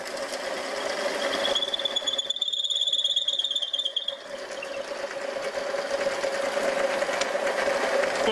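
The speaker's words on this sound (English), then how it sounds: "Let's try and drill some wood." A homemade drill press built from a gearbox and driven by a vintage motor, drilling into wood and shaking from heavy run-out; a steady whining motor drone with a brief higher-pitched tone partway through, heard alone.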